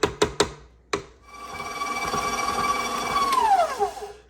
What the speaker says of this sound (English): I'll scrape it down a little bit and just mix it just a little bit more.